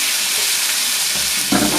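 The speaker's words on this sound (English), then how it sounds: "we want to sear them off about 2 or 3 minutes on each side" Shrimp searing in a hot pan, a steady close hiss of sizzling fat with brief louder spits toward the end, no voices over it.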